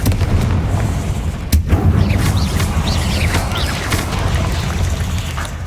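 Confringo spell explosions in the video game Hogwarts Legacy: a loud, rumbling blast with crackling debris and a sharp burst partway through, booming throughout at close range.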